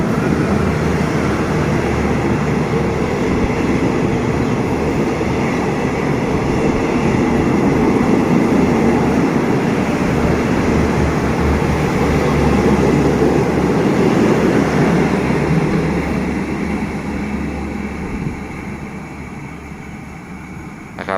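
A train passes close by at Pak Tho station in the evening with a loud, sustained rumble and rattle that swells and then slowly fades as it moves away.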